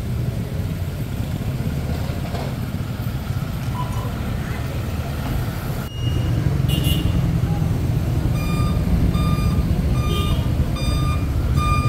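A tow truck backs up to haul away a driverless BMW parked in an obstruction-clearing operation on a city street, its reversing alarm beeping steadily over heavy traffic rumble and engine noise, with the beeps clearer in the second half.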